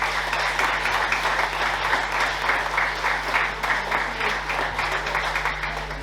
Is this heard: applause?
yes